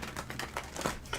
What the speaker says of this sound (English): We're going to shuffle a couple more times.